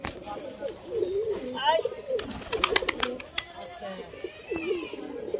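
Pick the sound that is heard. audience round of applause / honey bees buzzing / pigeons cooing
pigeons cooing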